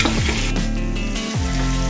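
Finely chopped onion frying lightly in a pan, giving a continuous dense sizzle close by, with a soft stir partway through.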